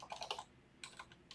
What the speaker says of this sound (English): I was just typing away without showing you.